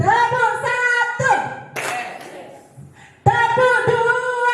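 A class of ninth-grade students gives a single unified hand clap, a short burst between stretches of loud group voices in a classroom.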